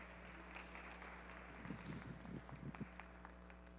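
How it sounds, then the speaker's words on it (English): Scattered clapping from an audience welcoming a speaker at a talk, a short burst of applause over a steady low hum. "would you please give a warm welcome and a round of applause"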